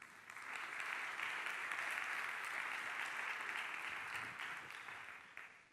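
An audience claps for a panel member at a televised debate on Syrian refugees in Almería, a steady, moderately distant round of applause lasting several seconds and fading toward the end.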